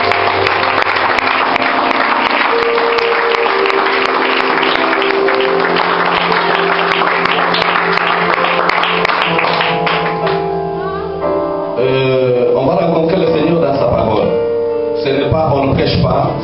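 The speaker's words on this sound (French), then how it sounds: "Est-ce qu'on peut acclamer le Seigneur Jésus-Christ?" Congregation at a church service clapping loudly and continuously in a dense, sustained wash, with voices singing or calling out over it and the clapping thinning into rhythmic claps toward the end.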